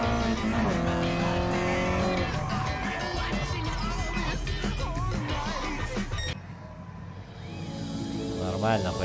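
A Toyota Levin Trueno racing in Gran Turismo Sport, its engine note loud and rising with gear changes and tyre squeal, then the sound cuts to quieter game audio near the end.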